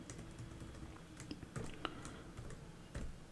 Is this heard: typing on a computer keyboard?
yes